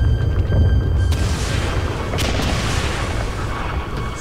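Heavy booming gunfire and explosions from Brutal Doom, a tactical survival horror mod, rumble loud and continuous with sharp bursts throughout, while no talk is heard.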